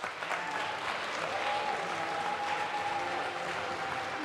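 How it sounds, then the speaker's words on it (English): A crowd applauds continuously at a startup demo day, a dense wash of clapping that stays steady throughout, moderately distant. "For the final applause, please applaud them."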